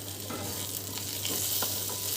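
Roughly cut onions sizzling in a pan with no added oil, a steady close frying hiss broken by a few soft stirring scrapes.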